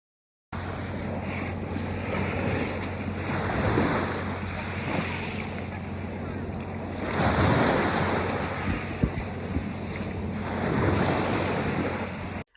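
Sea waves at Ölüdeniz beach in Fethiye, with a steady wash of surf and wind and several waves swelling and breaking in turn, with faint voices in the background.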